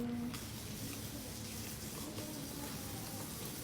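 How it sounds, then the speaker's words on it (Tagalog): Faint, steady stream of water running from a tap, continuous throughout with a low background hum. "Ang tubig."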